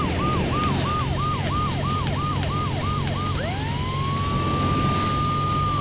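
In the Crazy Cars racing video game, a police car siren wails in rapid repeated whoops, then shifts to a long steady rising tone, loud over a constant engine drone.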